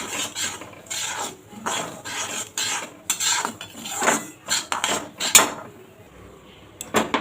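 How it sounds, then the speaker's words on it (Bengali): Semolina stirred lightly in a pan over low heat, a rhythmic dry rasping scrape of the spoon against the pan in repeated strokes, close and fairly loud. "সুজিটা দিয়ে দেব গ্যাসটা কমিয়ে একদম হালকা একটুখানি নেড়ে দেবো"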